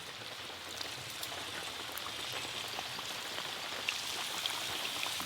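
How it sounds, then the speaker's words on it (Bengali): Saptapuri, a palm fruit sweet, frying in warm oil, a soft, steady crackle and fizz like light rain that holds evenly throughout with scattered small pops. "তেল হালকা গরম হয়ে গেছে, এই অবস্থায় সপ্তপুরিগুলো ভেজে নিতে হবে"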